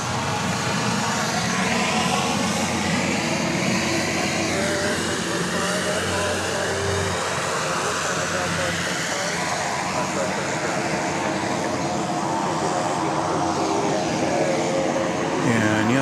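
Southwest Airlines airliner in Illinois One livery at Dallas Love Field, after dark, giving a loud, steady broadband jet engine roar throughout with a slowly shifting tone as it taxis or passes, and a voice speaking over it.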